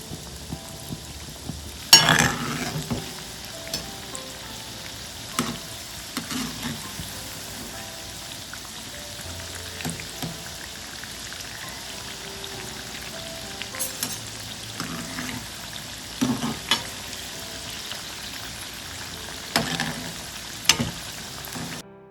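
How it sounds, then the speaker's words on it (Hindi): Wheat flour and jaggery pichke fry in oil in a kadai over low to medium heat, giving a steady, close sizzle with occasional louder crackles and spatters and no talking. "लो टू मीडियम आंच पर हमें इन्हें फ्राई करना है।"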